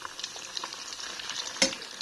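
Food frying in a pan at home, a steady soft sizzle and crackle with a brief louder burst near the end, close and moderate in level, no voices.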